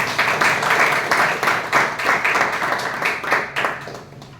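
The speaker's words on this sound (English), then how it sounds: "So huge round of applause for that." Applause at a Toastmasters joint club meeting, steady clapping from a modest crowd with rhythmic swells and a slight fade near the end, no voices over it.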